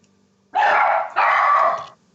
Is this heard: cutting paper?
no